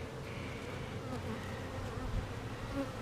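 Honeybees drone in a steady, close buzz throughout an open hive with burr comb, individual insects flitting past over the dense hum.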